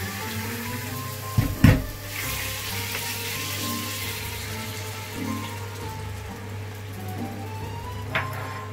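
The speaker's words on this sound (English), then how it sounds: "So now our oil is ready, it's hot. So we're gonna put our stroganoff." Stroganoff, about 500 grams, going into hot frying oil, giving a steady crackling sizzle with a louder burst of spatter near the start and a smaller flare near the end, close and with no voices.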